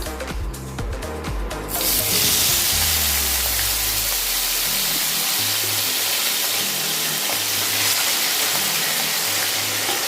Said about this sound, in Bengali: মাছগুলোকে খুব ভালো করে ভেজে নিতে হবে।